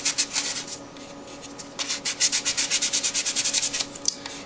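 Hand sanding a surface with abrasive paper, a run of close, rhythmic rasping strokes that quicken into a steady back-and-forth scrub, with no talking.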